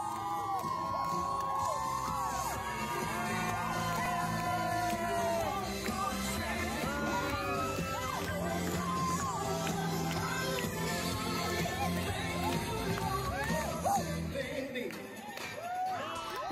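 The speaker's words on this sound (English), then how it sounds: "When I saw them jumping up and down and clapping and chanting for us" Children at a church gathering during a mission trip in Mexico cheer, whoop and shout together in a dense, lively crowd of voices that carries on steadily throughout, with possible clapping mixed in.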